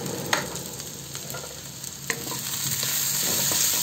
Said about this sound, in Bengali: আর এবার দিয়ে দেব শুটকি মাছটা, খুব ভালোভাবে ধুয়ে নিয়েছি, পেঁয়াজের সাথে আমি ভেজে নেব